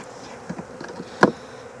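A honeybee swarm being hived: a faint low buzz close by, with a few short louder bursts as bees fly near, and no talk.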